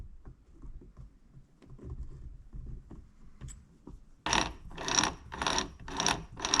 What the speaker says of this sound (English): you can move around your shift drum, catch your different gears